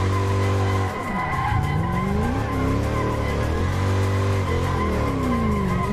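A BMW E30 Touring drifts on a circuit, its engine droning and swooping in pitch as revs rise and fall, with continuous loud tire squeal from the skidding car close by.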